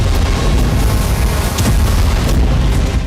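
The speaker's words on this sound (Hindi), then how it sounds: "कभी कामिकाज़े ड्रोन से हो रहा धमाका।" A loud, deep kamikaze drone explosion boom in the Russia-Ukraine war rumbles throughout, with a sustained low roar and brief crackling bursts on top.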